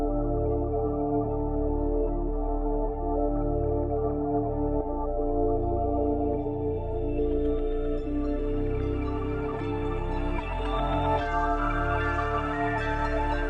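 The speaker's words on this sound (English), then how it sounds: "it's just kind of a cool intro effect, and it kind of fades in" A melody rises gradually in brightness as a Fruity Love filter opens over an intro, the dense layered tones swelling steadily with low bass underneath, continuous and without talk.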